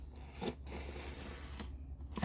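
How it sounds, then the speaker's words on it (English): A blade slices through packing tape on a Fallout Pip-Boy box, a few short close scraping rips separated by brief pauses, quiet and alone. "I don't feel too bad about cutting the tape"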